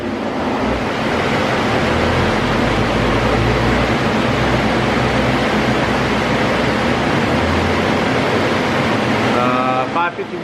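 Twin-turbo 2020 Mustang GT on a Dynojet chassis dyno on 93 pump gas, a loud sustained roar of engine and rollers that holds steady for about ten seconds before cutting off, with a short whistling turbo note as it winds down.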